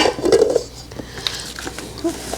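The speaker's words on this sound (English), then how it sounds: "But we need to mix this up first." Utensil scraping and clinking against a bowl while mixing Snickers cheesecake batter in a kitchen, a few brief knocks and scrapes, loudest at the start, then lighter taps amid quiet room noise.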